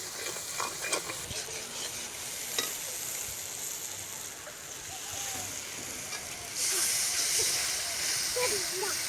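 Village-style desi chicken masala is stir-fried with turmeric and salt, making a soft, steady hiss and sizzle with occasional light stirring knocks. The frying grows slightly louder near the end.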